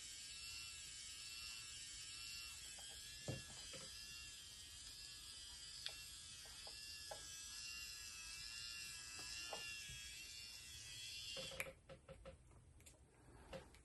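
A small electric motor in a Lexus power mirror assembly whirs steadily as it turns its gears, a faint high-pitched buzz with scattered soft clicks, cutting out near the end into a few light taps.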